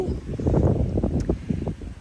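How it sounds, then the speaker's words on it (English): Low, blustery wind in a garden during a heatwave buffets the microphone with a rumbling rush that rises and falls over a couple of seconds. "Oh, sorry, it's so windy."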